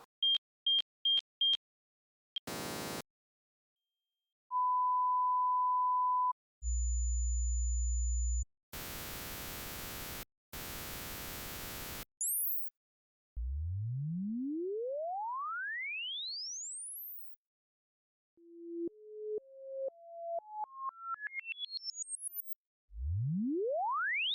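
Calibration test tones on a Denon RD-X 50 cassette: short beeps, bursts of noise, a low hum, steady pure tones, rising sweeps and a stepped series of climbing tones, separated by silent gaps.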